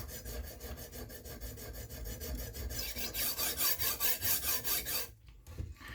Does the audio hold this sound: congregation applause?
no